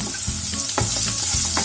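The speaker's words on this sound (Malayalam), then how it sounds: "ഒന്ന് വഴറ്റി കൊടുക്കാം" Beans sauté in a pan for spicy masala bread upma, loud close frying hiss broken by a few quick spatula scrapes and taps, with no voices.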